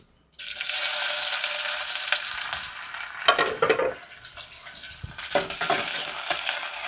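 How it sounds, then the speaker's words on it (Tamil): Onions sizzle in hot oil in a pan with fenugreek, a loud continuous frying crackle broken by scraping stirs, close up with no talking. "வெங்காயத்தை சேர்த்துருவோம்."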